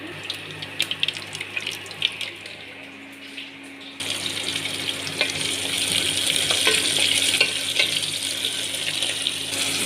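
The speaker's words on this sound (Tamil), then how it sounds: "இந்த ஸ்பூனில் ஒரு 4 ஸ்பூன் ஆயில் ஆட் பண்ணி கடுகு போட்டாச்சு." Mustard seeds hiss and splutter in about four spoons of hot oil in a cooker while cooking one-pot green gram rice. A steady, close, bright frying crackle swells after a quieter start.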